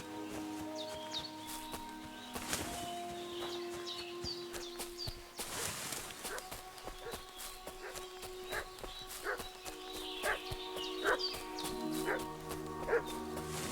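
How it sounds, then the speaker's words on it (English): A dog barks repeatedly in the medieval role-playing game Kingdom Come: Deliverance 2, sharp barks at medium distance scattered over ambient game sound, with a burst of louder noise partway through. "What's that dog making such a fuss about?"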